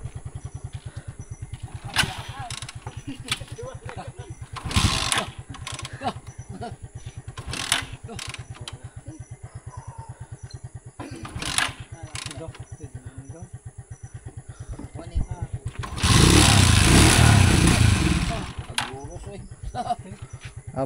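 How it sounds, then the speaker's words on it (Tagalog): A motorcycle rides along a road in Bohol, its engine a steady close drone with a loud surge of wind or engine noise partway through, while people talk over it. "kami ay naka-motor ni Katiba"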